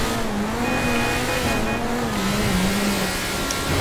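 A car engine in the video game GTA 5 drones loudly and steadily, its pitch wavering slightly as the vehicle drives along a highway.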